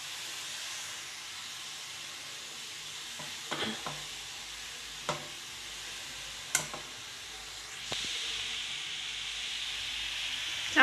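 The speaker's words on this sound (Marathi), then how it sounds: "कढईमध्ये भाजून घेत आहे" Momo filling of finely chopped vegetables, chilli and garlic roasts in a wok with a soft, steady sizzle, broken by a few sharp scrapes and taps of a spatula; fairly quiet, with no one speaking.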